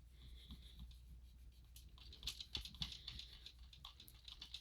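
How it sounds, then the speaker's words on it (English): A sticker rubbed down firmly onto a handmade mixed-media greeting card, a soft, steady scratchy rubbing at close range, with a few louder strokes partway through and no talking. "I'm just burnishing this down."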